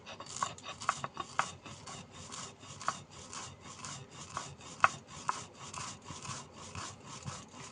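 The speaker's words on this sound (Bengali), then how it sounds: "এবার এটাকে গুঁড়ো করে নেব।" Roasted spices, cooled after dry-frying, ground fine on a stone slab (shil): steady repeated rasping scrapes of stone on stone in an even back-and-forth rhythm, close and moderately loud, with occasional sharper grits, no talking.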